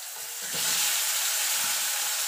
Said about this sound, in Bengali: এবার বেগুনটা কেটে রেখেছিলাম সেটা দিয়ে দেবো।